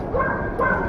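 Dog barking at an outdoor dog show, two short close barks over a noisy crowd background.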